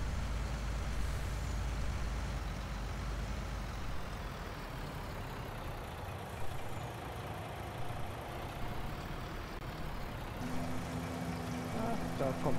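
A truck driving in Landwirtschafts-Simulator 19 while swerving in gentle zigzags, its engine rumbling low and steadily throughout, with a quiet tonal hum near the end and a voice talking over it.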